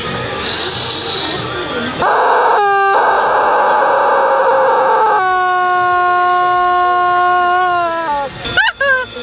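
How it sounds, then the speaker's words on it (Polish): Electronic toy chicken sounds repeat in a Japanese gadget shop: loud, close squawking and clucking bursts with sustained synthetic crowing tones, the sound fairly continuous throughout. "Jeśli słyszycie tu dźwięki panów kurczaków, to dlatego, że mają tu panów kurczaków"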